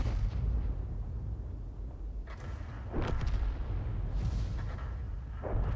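A tank gun fires in a World of Tanks style game, the GW Panther, a deep booming shot followed by rumbling echoes and a few more distant blasts under low engine noise.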